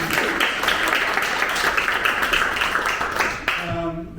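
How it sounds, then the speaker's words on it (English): A second burst of audience clapping at a public talk on housing, steady and fairly full for several seconds, then thinning and fading out near the end. "I'd also like to give a round of applause to Penelope"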